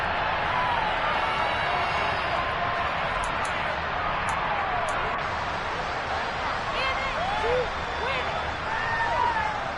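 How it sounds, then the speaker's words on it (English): A football stadium crowd at an XFL game shouts and roars during a replay, a dense continuous wall of noise with scattered whoops, while a commentator talks over it. "Plenty of shouts from this crowd as they watch the replay."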